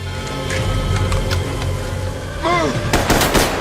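A quick burst of sharp gunshots cracks out near the end, following steady background noise and a brief wavering tonal cry.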